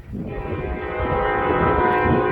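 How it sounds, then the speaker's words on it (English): A train comes closer with a steady horn blast and a rumble that grows louder. "And now the trains coming."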